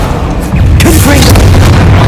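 Confringo blasting spell going off in Hogwarts Legacy, a loud booming explosion that swells about midway and stays heavy and rumbling to the end, with whooshing effects sweeping over it.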